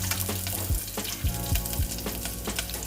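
Onions caramelizing in a pan fry with a steady close sizzle, broken by a few low scraping thumps from stirring; no one speaks.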